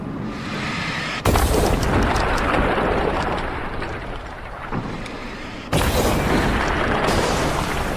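Heavy booming blasts in the video game Alan Wake, with a loud broad rumble that starts abruptly, fades over several seconds, then a second boom hits near the end.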